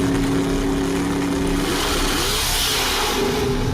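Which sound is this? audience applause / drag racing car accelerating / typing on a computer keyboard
drag racing car accelerating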